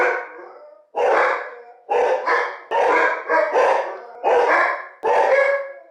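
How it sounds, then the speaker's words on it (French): Several house dogs bark loudly and close in repeated rough bursts, about six volleys with short pauses between them, reacting to someone passing by outside. "Que serait un vlog sans les chiens qui gueulent de cette manière évidemment."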